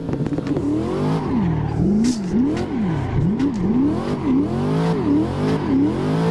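A Corvette C6 drifts in the Assetto Corsa racing game. Its engine revs climb and fall in steady waves as the throttle is worked, with tire squeal mixed in. The sound is loud and continuous throughout.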